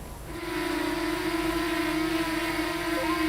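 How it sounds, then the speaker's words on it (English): A sustained high-pitched FPV drone motor whine rises in and holds steady, a strained electric screech that stays loud and unbroken. "The motors give off a characteristic screech that sounds like this."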